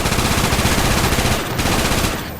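Rapid automatic gunfire from a Roblox zombies game, a loud continuous burst of fast repeated shots that tails off at the end.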